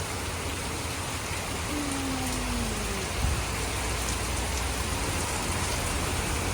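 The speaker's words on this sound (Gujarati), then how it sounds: "આ 2 દિવસમાં અત્યારે ફૂલ વરસાદ આવ્યો." Heavy rain falls steadily in Surat, a constant even hiss of drops on surfaces with no breaks, fairly close, with a faint passing vehicle hum and a brief low thump partway through.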